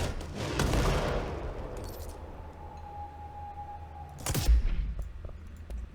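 Gunfire from a boosted projectile weapon in the game Control, a burst of rapid shots early on and another sharp blast later, loud and close with a faint tone between.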